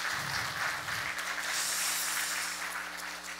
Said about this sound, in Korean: 우리 드림 찬양대 또 우리 챔버팀도 박수 한번 할까요?